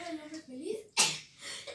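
One sharp, close sneeze in a home bathroom, framed by faint talk before and after.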